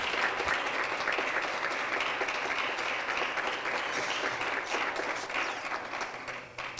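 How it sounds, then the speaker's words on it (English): Sustained applause from a conference audience, dense steady clapping that holds at full strength for several seconds, then thins slightly toward the end. "I would like to give a big round of applause to Francisco and Edwin for everything."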